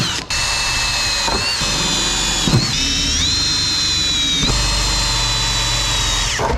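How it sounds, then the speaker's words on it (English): Power drill boring holes through a car body to mount a swan neck rear wing on a BMW G82 M4, loud whining bursts with pitch changes and brief pauses, close and alone. "Let's start drilling."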